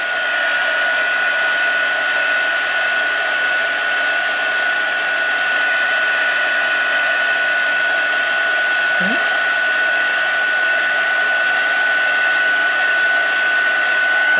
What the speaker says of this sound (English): And then I'm going to use my heat tool to heat set this.